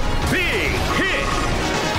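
A heavy hit attack in the Pokémon Battle Revolution video game, with Larvitar attacking in a battle's final stage. Loud, dense crashing impact effects arrive in two bursts with sweeping, warbling tones over a constant noisy backdrop.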